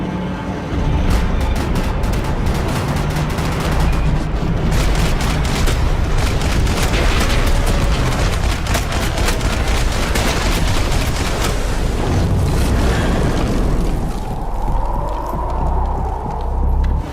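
Sustained heavy gunfire from a Max Payne 3 shootout, dense overlapping shots and bursts of automatic fire, loud and continuous for most of the stretch before tapering off.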